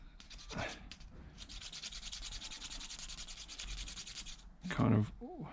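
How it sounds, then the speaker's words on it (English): Steady broadband rubbing on a vintage marking gauge, a cloth or fingers working something into the middle of the wooden tool, running continuously for several seconds close to the mic, with short handling knocks at the start and end. "kind of rub that in to the middle"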